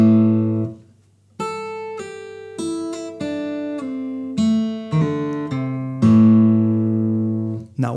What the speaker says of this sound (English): you get this power chord sound without you playing with your right hand